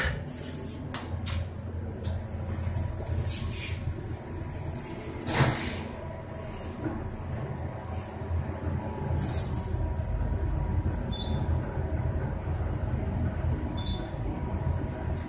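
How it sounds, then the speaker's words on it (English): A rebuilt Otis traction elevator in the Dacotah Building in downtown Grand Forks: its doors slide shut with a single thump, then the car travels with a steady, close, rumbling hum and mechanical whir. "This is a traction elevator."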